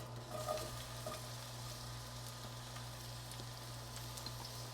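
Shallots frying in olive oil in a pan over medium heat, a steady soft sizzle with faint crackles throughout, no talking.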